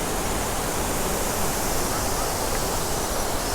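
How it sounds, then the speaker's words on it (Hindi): The Mandakini river and small waterfalls along a Himalayan mountain trail make a dense, steady roar of rushing water, loud and unbroken throughout. "और रास्ते में आपको खूबसूरत छोटे छोटे वाटरफॉल देखने को मिलेंगे। और ये मंदाकिनी नदी है,"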